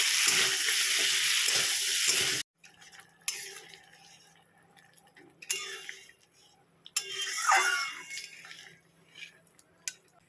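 Potato and taro curry cooks in a pan, opening with a loud, dense sizzle that cuts off abruptly, followed by quieter bursts of frying and stirring with occasional drips and clicks.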